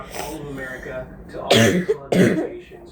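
A person talks briefly, then two short, harsh coughs or throat clears burst out close to the microphone.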